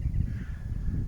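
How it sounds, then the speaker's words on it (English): Crows caw a few times at a distance over a steady low outdoor rumble. "Can hear the crows crowing away."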